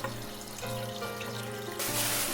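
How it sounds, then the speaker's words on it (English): Cold tap water runs steadily into a sink while raw shrimp are rinsed under it, a close, continuous splashing stream that grows brighter and louder near the end. "Then give it a good rinse in some nice cold water"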